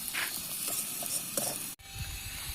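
Onions sautéing in a pan for a Tamil prawn thokku, a soft close sizzle with light stirring scrapes and a brief mechanical click partway through, without speech.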